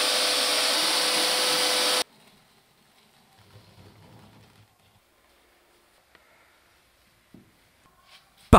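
A vacuum cleaner runs loudly around floor insulation for about two seconds with a steady roar, then cuts off, leaving near silence with faint rustles and a brief thump near the end.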